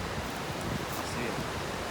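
Twenty Mile Creek in the Smoky Mountains rushes past a hiking trail over big cascades, making a loud continuous broadband roar with no breaks.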